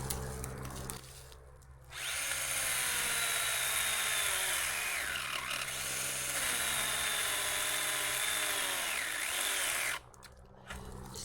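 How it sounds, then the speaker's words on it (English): A steel chainsaw cutting into a tree that is being brought down: after a quieter idle, the engine revs into a sustained loud whine for about eight seconds, dipping in pitch under load, then drops back to idle. "This is the only steel chainsaw I have."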